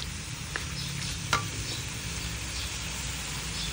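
Squid adobo cooks in a frying pan, with a soft steady sizzle under gentle stirring and a couple of light utensil taps against the pan, no voices.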